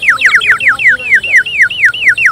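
Ceramic water-filled bird whistle blown gently, producing rapid repeated warbling downward chirps that imitate birdsong, loud and close.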